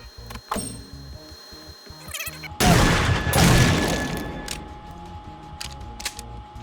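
Shotgun fire in a survival video game, hitting a base structure during a raid: a sudden loud broadband blast with a long noisy tail, preceded by quieter rhythmic game sounds.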